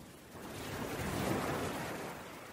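Ocean waves rolling onto a wild, rugged natural beach on an open coastline, a soft broadband wash that swells and recedes steadily, distant and fairly quiet with no voices.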